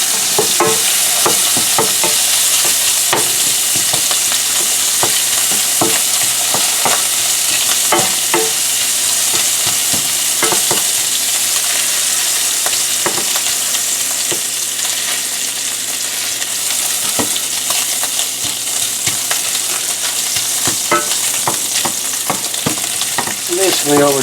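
Bacon fries in a pan for Thanksgiving stuffing, giving off a loud, continuous crackling sizzle. Steady stirring and scraping clicks run through it.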